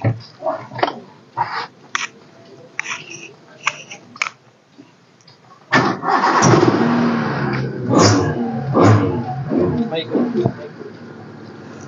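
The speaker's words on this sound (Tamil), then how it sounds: "உள்ள உட்காந்து ஸ்டார்ட் பண்ணி காமிக்கிறேன்" A budget family car's engine cranks and catches about halfway through, then settles into a loud, steady idle with rev swells. People talk before and over the engine noise.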